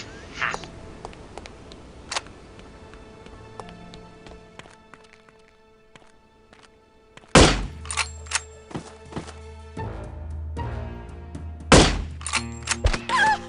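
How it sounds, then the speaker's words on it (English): Rifle shots in a video game: two loud, sharp bangs spaced a few seconds apart, surrounded by mechanical clicks and thuds, after quieter scattered knocks and footsteps. "Sometimes this rifle doesn't kill people on the first shot."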